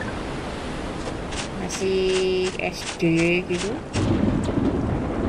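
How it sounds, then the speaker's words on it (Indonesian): Rain with thunder in the farming game Harvest Moon: Home Sweet Home, a steady loud rain wash with low rumbles beneath, while tonal game effects and brief speech drift over it. "Wih, hujannya sampai gelap gitu guys."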